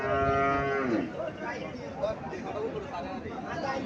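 A cow lows several times at the Mirshanni cattle market in Comilla, with deep drawn-out moos at the start. A thick crowd hubbub runs throughout and nearby voices talk over it.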